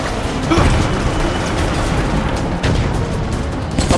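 Explosion in the video game Resident Evil: Operation Raccoon City, a loud boom near the half-second mark within a dense, rumbling din of combat noise that stays steady and loud throughout, with no talk.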